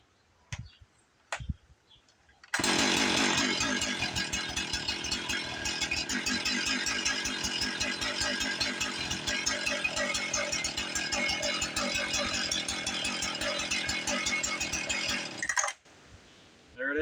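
Husqvarna 450 Rancher chainsaw with a defective recoil starter kicking back as the cord is pulled, a few light clicks and a quick pull, then a long loud rapid rattling mechanical chatter that cuts off near the end.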